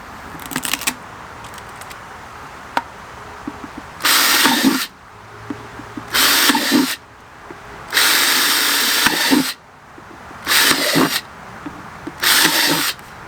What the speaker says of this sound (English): we're going to drill out a number of holes in this pot